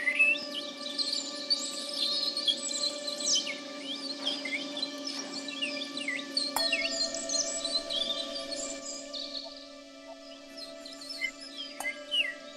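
Trilling, chirping birdsong rises over sustained soft synthesizer tones in meditative healing music, quick bright twitters repeating across the clip above a steady low hum.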